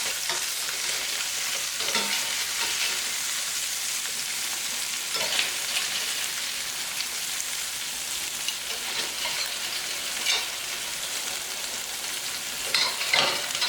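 Onions frying in a pan as the base of a tagine sauce, a steady, moderately loud hiss and sizzle throughout with faint occasional stirring, no talking.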